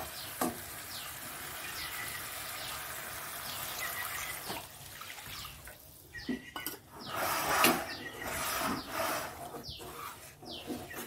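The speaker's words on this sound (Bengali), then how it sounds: "জল দিয়ে দিচ্ছি।" Water poured into a pan while making pickle with kasundi mustard, a soft steady trickle with light clinks of pots and utensils throughout, nearby and moderately quiet.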